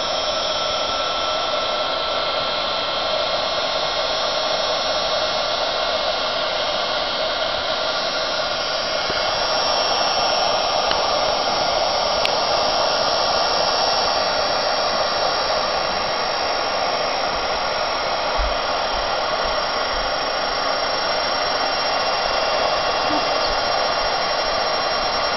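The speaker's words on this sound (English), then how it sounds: "Use your heat gun." A heat gun blows a loud, steady, close roar while melting embossing powder on an acetate card, continuous for the whole stretch with only slight shifts in tone.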